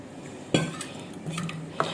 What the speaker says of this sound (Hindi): सारी चीज़ें हम इसके अंदर मिक्स करते हैं।